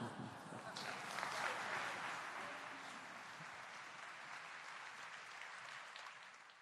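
A conference audience applauds a speaker at the close of a talk on change management; the clapping is faint and distant, rising a little early on and then tapering off gradually.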